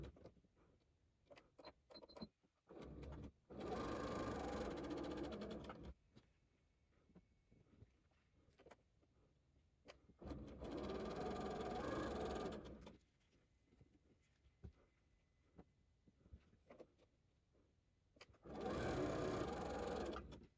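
A sewing machine stitches parallelogram quilt pieces in three separate bursts of a couple of seconds each, loud and close, with quiet handling noises in the pauses between runs.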